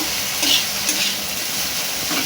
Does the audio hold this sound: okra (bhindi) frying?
yes